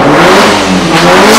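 A Toyota Corolla with a 2ZZ engine revs hard and close, a loud, sustained high-pitched engine roar holding steady through the whole moment with no one speaking over it.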